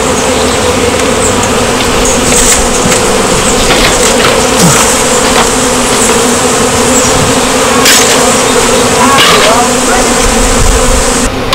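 Dense, steady swarm of honeybees buzzing loudly and continuously around brood comb and a hive box, a close, unbroken drone with occasional louder passes of individual bees.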